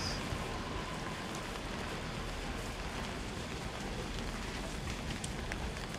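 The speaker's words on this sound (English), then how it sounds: "Very rainy still." Steady rain falling in Osaka, a constant dense hiss of drops that stays loud and even throughout, with no voices.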